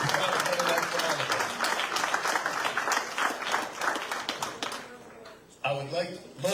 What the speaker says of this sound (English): Can I get a round of applause for all the people that leave the building to get the main building to try to better life for all of